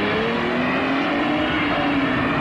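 A car engine revs hard and accelerates fast, a loud continuous roar with a rising pitch over a couple of seconds and no talking.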